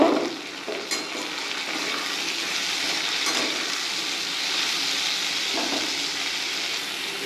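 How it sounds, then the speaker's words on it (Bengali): Soaked raw chickpeas go into a pan of potatoes already fried with salt and spices, giving a steady, close hiss of frying with a few soft clatters near the start and no talk. "এবার আমি এর মধ্যে যে ভিজিয়ে রেখেছি কাঁচা ছোলাগুলো দিয়ে দেব"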